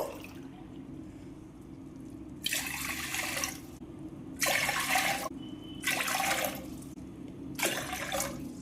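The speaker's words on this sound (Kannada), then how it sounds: "ಈಗ ಇಲ್ಲಿ ನಾವು 4 ಗ್ಲಾಸ್ ನೀರು ಹಾಕೋಬೇಕು" Water is poured from a glass into a pressure cooker four times in a row, each a loud rushing splash of roughly a second, separated by short pauses over a low kitchen hum.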